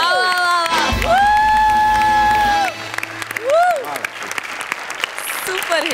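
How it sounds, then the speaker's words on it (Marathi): A studio audience at a Marathi comedy show bursts into loud, sustained applause with cheering and whoops, the clapping dense and close while voices ring out over it. "आणि मी उभा राहून टाळ्या वाजवतो."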